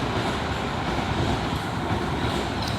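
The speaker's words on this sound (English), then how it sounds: "minus the trains going by" Passing trains rumble close by in a dense, continuous wash of rail noise, with faint metallic squeals near the end and no voices.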